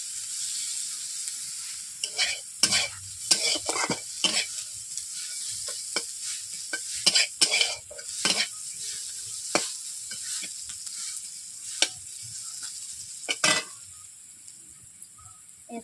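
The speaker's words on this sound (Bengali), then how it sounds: "পেঁয়াজগুলো হালকা করে ভেজে নেবো" Onions lightly frying in a pan for a drumstick-leaf (sajina) dish, a steady sizzle broken by repeated sharp scraping stirs and clinks of a spatula, close and fairly loud with no talking.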